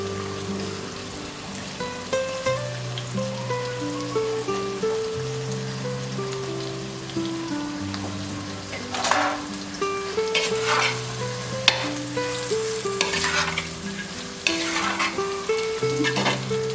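Tomato, green chili and eggplant fry in a pan with a steady, close sizzle, broken by occasional stirring scrapes, over soft background music.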